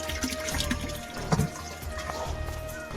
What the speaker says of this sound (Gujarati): પાણી તો આવવાનું ચાલુ થઈ ગયું છે ધીમે ધીમે તો આપણે ભરી લઈએ